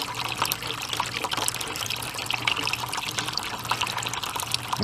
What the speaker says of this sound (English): You can hear it siphoning or sucking air to help get through there faster.